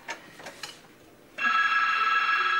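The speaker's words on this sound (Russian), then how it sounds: "А это уже телефон." A telephone bell starts ringing abruptly after a quieter stretch of faint knocks and clatter, then rings loud and steady without pause until the end.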